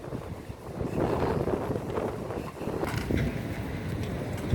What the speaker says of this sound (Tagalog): Mahangin hanggang ngayon.